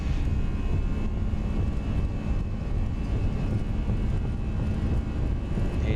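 Simulated Airbus A320 engines roar steadily during a takeoff roll in the X-Plane 11 flight simulator, a loud, continuous broadband rumble with a faint high whine that holds constant throughout.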